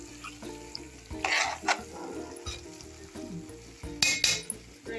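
Cauliflower kurma masala sizzles in a frying pan as a spoon stirs it, with crackling frying, scraping strokes and a few light clinks of utensil on metal, heard close and without speech.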